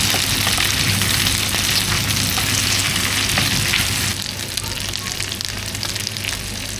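Potatoes frying in butter in a pan give a loud, steady close sizzle that drops slightly partway through, with no voices.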